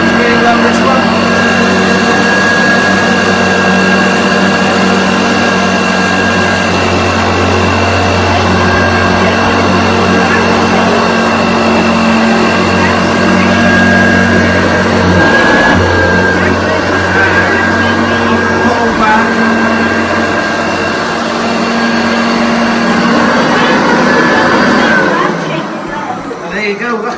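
1986 Hoover Turbopower U2332 upright vacuum cleaner running on its low speed setting, with a loud steady motor whine and airflow hum held for nearly half a minute before it winds down at the end.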